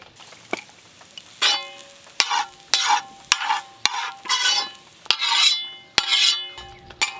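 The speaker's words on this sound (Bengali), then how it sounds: "এই চাউমিনগুলো ভাজা হয়ে গেল, নামিয়ে নেব।" Egg chow mein frying and tossed in a pan, with repeated scraping stirs and sharp metal clacks over steady sizzling, close up.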